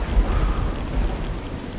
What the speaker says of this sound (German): den Regen kann ich leider nicht separat leiser stellen